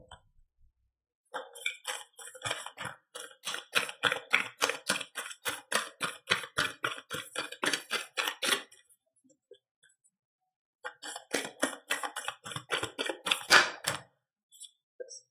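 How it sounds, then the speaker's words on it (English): Oracle cards shuffled and pulled by hand: two long runs of rapid, rhythmic riffling snaps and light card slaps, close and clear, separated by a short pause, with no talking. "I'm going to pull at least one, maybe two oracle cards for you guys."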